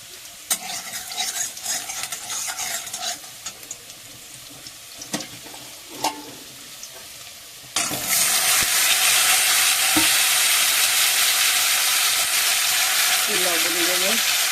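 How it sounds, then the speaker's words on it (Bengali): Bitter gourd and potato pieces go into a hot wok: light utensil clinks and scrapes first, then a sudden loud burst of oil sizzle that holds steady, with a brief voice near the end. "এপাশে কড়াইটা গরম হয়ে গেছে, উচ্ছে আলুটা ভেজে নেব।"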